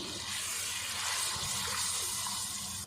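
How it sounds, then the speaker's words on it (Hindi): Water pouring steadily into a pan of grainy egg korma masala, a continuous soft, hissing splash at moderate distance with no break. "थोड़ा सा हम पानी डाल देंगे जितना हमें ग्रेवी रखनी है।"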